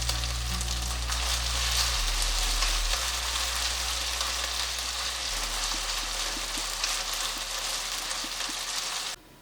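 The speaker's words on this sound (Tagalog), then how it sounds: "Ito na po ang ating na stir fry na beef." Beef strips for a spicy stir fry sizzling in a hot pan, a steady dense crackle that carries on evenly for several seconds, close and fairly loud with no voices.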